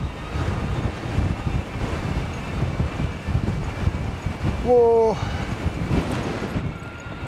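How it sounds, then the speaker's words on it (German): Very strong wind, around 50 km/h, roars against the microphone while riding an e-bike in Denmark, a loud continuous buffeting rumble with a brief exclamation from the rider midway. "Also bei so starkem Wind bin ich auch noch nie E-Bike gefahren."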